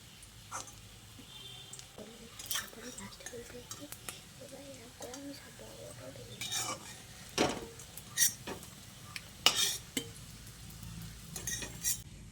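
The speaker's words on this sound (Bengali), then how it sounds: "এবার এগুলোকেও তেল ছেঁকে তুলে নিচ্ছি।" Light metallic clinks and scrapes of a slotted spoon against a pan while lifting fried egg-and-potato fritters out of oil, scattered taps with faint oil bubbling and quiet background noise.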